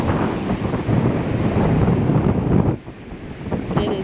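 Hurricane Sally's strong wind buffets the microphone over the rush of storm-surge waves, a loud continuous roar that dips briefly near the end before surging back.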